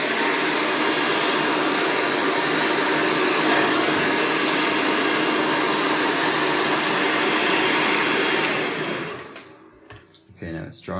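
A hair dryer blows steadily and loudly on a growing-out fringe being rolled around a round brush, running continuously for about nine seconds before switching off, followed by faint handling sounds.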